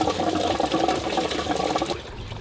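Water draining out of a street car, a steady close gushing and splashing of liquid that tapers off toward the end.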